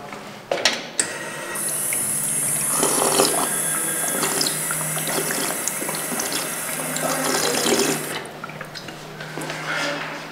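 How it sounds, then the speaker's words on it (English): Water from a drinking fountain runs in a steady, close hiss for about seven seconds, starting and stopping abruptly with a few small clicks around it. "Drinking fountain, I'd pass on that water, man."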